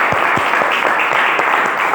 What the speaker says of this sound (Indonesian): Beri tepuk tangan untuk Ilham